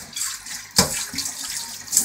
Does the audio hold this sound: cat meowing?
no